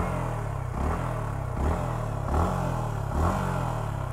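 A Yamaha MT-15 motorcycle engine revved lightly from idle toward 4,000–5,000 RPM in four short, regular blips, each rising then dropping back to a steady idle, heard up close with no talking.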